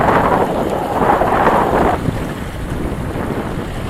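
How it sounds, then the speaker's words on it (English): Wind picks up while sailing a boat, a loud broad rushing buffet of wind over the microphone with water noise beneath, strongest early and easing slightly after a couple of seconds. "And now we're starting to get wind picking up."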